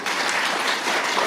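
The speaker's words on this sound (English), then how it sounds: "I'm just going to ask you all to please give Adrienne a round of applause" Steady, dense audience applause fills a sonography pinning ceremony, a continuous wash of many hands clapping without a break.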